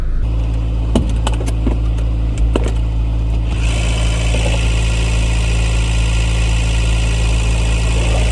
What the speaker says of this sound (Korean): 엔진룸 보시면 이제 엔진 소리 들어보시면 엔진 소리 굉장히 좋습니다